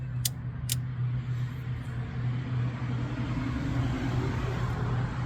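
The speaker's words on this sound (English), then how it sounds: "Waiting for a car to drive by." A passing car on a road near a 2013 Chevrolet Silverado parked for brake work, a steady mid-loud engine and tire rumble holding for several seconds with two brief sharp clicks near the start.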